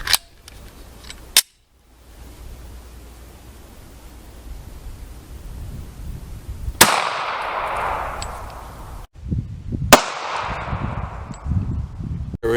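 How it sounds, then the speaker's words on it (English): Browning X-Point 9mm defensive rounds fired into ballistic gel: two sharp, loud gunshots several seconds apart, each followed by a decaying reverberant rumble, with outdoor background noise between them. "This is the Browning X-Point defensive ammo."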